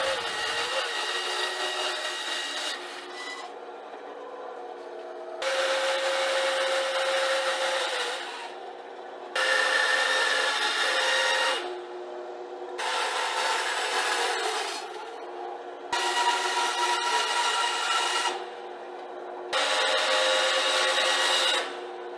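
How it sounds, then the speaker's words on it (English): A bandsaw cuts a wooden seat to shape for a stitching pony, with five steady bursts of bright, rasping whine a few seconds each, separated by quieter idling gaps and no talk. "I'll use the bandsaw again to give the seat its shape."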